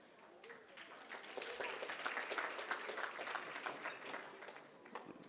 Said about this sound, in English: That was a very good clap.